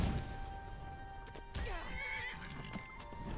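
In a video game, a horse gives a clear whinnying neigh that rises and falls over about a second, with light hoof clip-clops and faint game background sounds around it.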